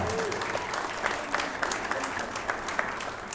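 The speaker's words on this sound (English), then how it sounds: "keep that round of applause going for Jasmin Ouschan from Austria." Audience applause after a women's professional pool match at the 2019 WPBA Masters, a steady dense wash of clapping holding at even loudness throughout, with a few sharper individual claps and some voices mixed into the crowd.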